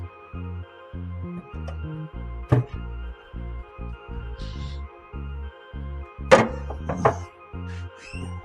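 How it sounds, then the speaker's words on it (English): Metal griddle grates are set back into a Pit Boss pellet grill, producing several hollow clunks and clanks amid low rhythmic mechanical thumping, with a couple of sharper metallic knocks near the end. "Now we're gonna put the griddles in."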